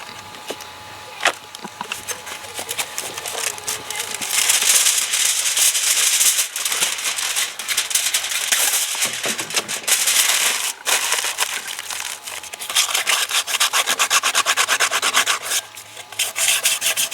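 A ball of aluminium foil scrubs hard against a rusted cast iron pan, giving loud, continuous rasping friction in long strokes with short pauses, close up and with no talk.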